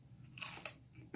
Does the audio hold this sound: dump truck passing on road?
no